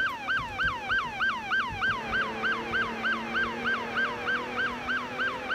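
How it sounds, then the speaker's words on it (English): Repeating police yelp siren from a vehicle in the emergency-services game PASRP, sweeping rapidly up and down in a steady cycle, loud and continuous with no other sounds over it. "What I usually do when I'm in the city is use the Yelp siren."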